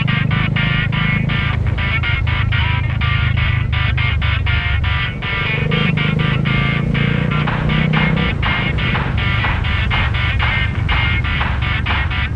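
Small motorcycle riding on a road in Bali, its steady engine drone loud and close throughout with rhythmic pulsing and brief dips as the throttle shifts; no talking.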